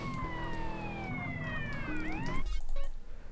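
A police siren in GTA: San Andreas wails with falling, gliding tones, joined by a second siren sweep, then a louder rumbling burst near the end.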